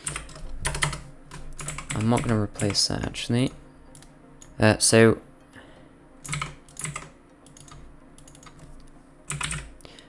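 Bursts of typing on a computer keyboard, clustered clacks and short flurries of keystrokes close by, separated by pauses, with someone talking intermittently over the clicking.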